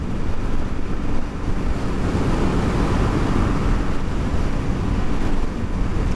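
Steady, loud wind roaring across the microphone outdoors while riding a motorcycle on roads between Silivri and Çatalca, Istanbul, a continuous broadband rush with no voices.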